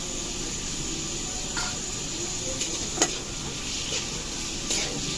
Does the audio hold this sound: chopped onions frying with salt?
yes